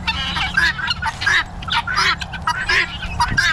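Repeated honking calls from a goose-like bird sound in quick bursts, close and fairly loud, over a low steady rumble.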